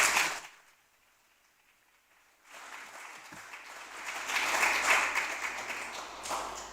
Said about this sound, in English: please give her a round of applause before she starts